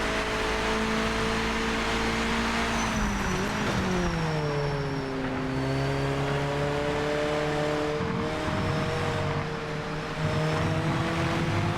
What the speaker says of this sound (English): Good noise of curbs, rumble strips.